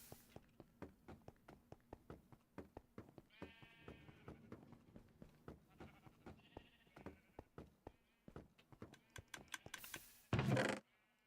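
Sheep bleating in a block-building video game, several calls at different pitches rising over steady rapid clicking of a computer keyboard, ending in a brief loud burst.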